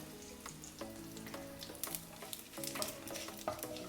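Mustard seeds, cumin, dried chillies and curry leaves temper in hot oil for a coriander chutney, giving a steady close sizzle with scattered crackling pops and light stirring scrapes throughout, no talking.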